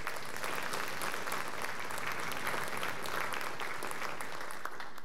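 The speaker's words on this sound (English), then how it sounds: "So please give Mr. Eberlin, our new principal, a round of applause." Audience applause at a high school orchestra fall concert, greeting the new principal: a steady, dense wash of many hands clapping that holds evenly for about five seconds with no voices.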